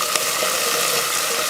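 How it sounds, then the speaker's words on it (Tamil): Mustard seeds and urad dal crackle and sizzle in hot oil, a dense, steady frying hiss with small popping spatters, close and fairly loud with no voices. "எண்ணெய் காஞ்சதுமே கடுகு உளுந்து, கடுகு பொரிஞ்சதுமே கொஞ்சம் கருவேப்பிலை"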